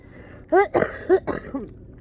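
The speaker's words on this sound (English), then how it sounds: "I've had a really bad cough for a few days now." A person with a bad cough of several days clears their throat and coughs in a few short, rough bursts, close and fairly loud, with brief pauses between.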